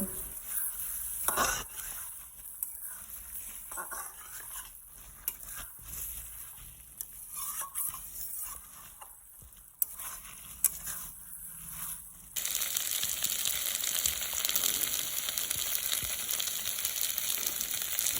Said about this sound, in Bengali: এবার এর মধ্যে ভেজে রাখা আলুগুলো দিয়ে আরেকটু কষিয়ে নেব